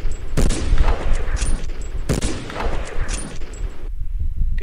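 Gunfire in a Resident Evil video game: two loud, sharp blasts about two seconds apart, each trailing a reverberant tail over steady background game ambience.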